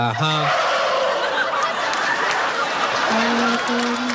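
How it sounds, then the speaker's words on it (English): A loud chorus of turkeys gobbling together, with a singing voice briefly heard at the start and again near the end. "something like singing turkeys"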